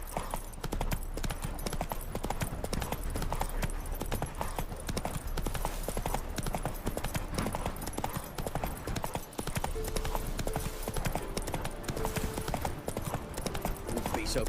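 Roach the horse in The Witcher 3 trotting with a steady, rapid clip-clop of hooves that runs the whole time, while voices talk over the hoofbeats.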